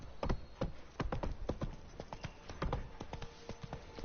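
Hoofbeats of the horse Roach in The Witcher 3: Blood and Wine, a steady trotting clip-clop of hooves on hard ground, fairly quiet and rhythmic, with a faint voice briefly underneath.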